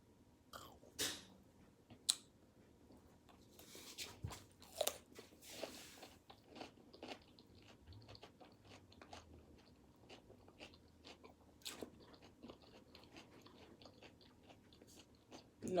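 Someone bites and chews cucumber, sausage and rice close up, with sharp crisp crunches and wet smacking chews at irregular intervals, quiet and alone with no talk.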